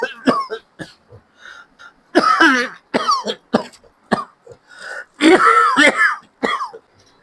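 An elderly man coughs repeatedly in harsh, throat-clearing bursts, several fits spaced across the stretch with short pauses between, close and loud.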